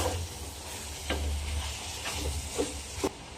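Carrots, chayote and green chilies go into a hot pot and are stirred, a steady sizzle and hiss with several clattering spoon scrapes against the metal, close and fairly quiet.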